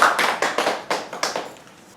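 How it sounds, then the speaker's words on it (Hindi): Clapping from a church congregation greeting Jesus Christ for praise and worship: a run of sharp, close hand claps in an uneven rhythm, loud at first and fading toward the end. "हम स्तुति आराधना के लिए प्रभु यीशु मसीह का तालियों से स्वागत करते हैं"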